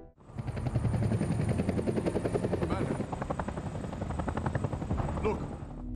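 A helicopter in the action film Hidden Strike is heard with loud, close, rapid rotor chopping running steadily throughout, under a faint high whine.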